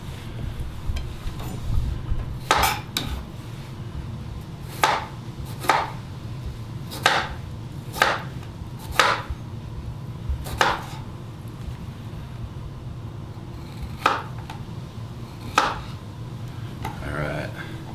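A knife slicing kiwis on a cutting board: sharp, spaced chops hit the board about a dozen times at an irregular pace, close and clear over a low background hum.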